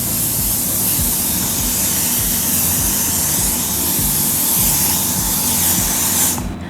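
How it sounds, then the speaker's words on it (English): L'Oreal Elnet hairspray sprays in one long, steady, close hiss that runs loud for about six seconds and then cuts off, with no talking over it. "I'm using the L'Oreal Elnet spray"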